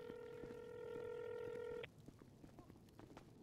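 A phone rings inside the GTA V NoPixel roleplay game, a steady electronic tone holding for under two seconds before cutting off, followed by faint clicks and low background noise.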